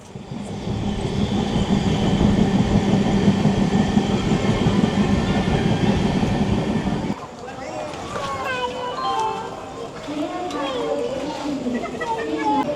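A Steel Express train pulls into Tatanagar Junction with a loud, sustained rumble of wheels and carriages that cuts off abruptly, giving way to quieter station ambience with voices.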